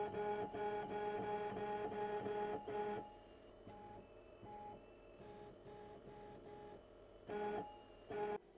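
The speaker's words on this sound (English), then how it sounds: "now we can jog the axes. I'm going to jog towards the centre of the table bed." FoxAlien XE-Pro CNC router jogging its axes toward the centre of the table bed, faint stepper-motor whines in short bursts, a longer tonal run followed by brief pulses and quieter gaps, no talking.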